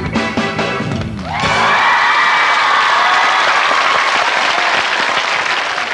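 A studio audience at a 1996 Korean TV show bursts into loud, sustained applause with cheering after a short musical passage, the clapping dense and steady until the end.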